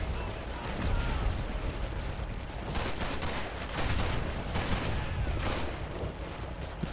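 Gunfire in an old shooter game with a Thompson submachine gun: dense, continuous bursts of rattling shots that swell and fade over several seconds, loud and close.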